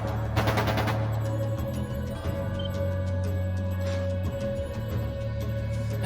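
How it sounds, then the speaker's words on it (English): Gunfire in Trails of Cold Steel 2: a sharp burst of rapid shots early on, then a sustained droning hum with scattered faint ticks and clicks, no talk. "That sounded like gunfire."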